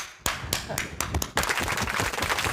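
A few sharp hand claps ring out, then a burst of denser clapping from a small group during an apartment presentation for a large IPark complex in Pohang, with voices speaking underneath.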